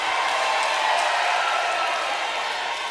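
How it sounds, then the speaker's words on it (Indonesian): Audience at an election debate for a 2024 regional race in Ngada, applauding in a steady, dense wash of clapping that fills the room with no pauses. "Boleh tepuk tangannya Bapak Ibu sekalian."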